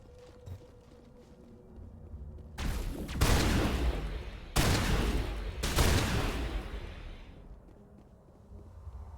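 Cannon and gunfire boom in the Mass Effect video game, two pairs of heavy, close blasts with long rumbling tails over a low background hum.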